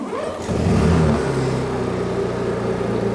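A Honda EU32i portable generator engine catches and starts, rising quickly to a steady, low running hum that continues evenly.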